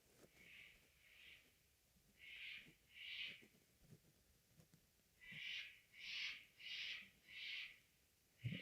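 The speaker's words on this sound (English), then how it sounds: "you can probably hear the birds outside" Outdoor birds call in repeated rhythmic bursts, a hooting, two-note pattern recurring about every half second, moderately distant, over quiet background hiss.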